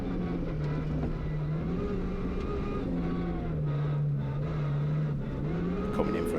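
Rally cars race and overtake on the Anglesey circuit, a steady engine drone with rising and falling pitch as they close in, loud and continuous throughout.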